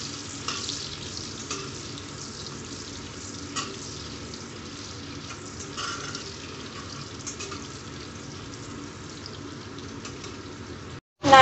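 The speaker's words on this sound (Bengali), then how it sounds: "এই আমি ভেজে নিচ্ছি নারকেল কুচিগুলো।" Chopped coconut fries in mustard oil, giving a soft, even sizzle that hisses steadily throughout, with a few light clinks and a louder sudden burst right at the end.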